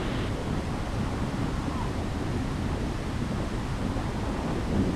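Roaring rush of Buracão waterfall in Chapada Diamantina, a dense, steady wash of falling water heard from very close, loud and unbroken throughout, with wind buffeting the microphone.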